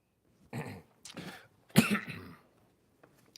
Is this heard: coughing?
yes